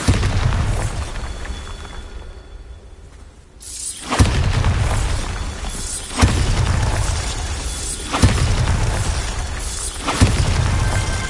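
Bombarda blasting spell in the Hogwarts Legacy video game: repeated heavy booming explosions with crackling debris, four loud blasts spaced about two seconds apart after a brief quieter lull.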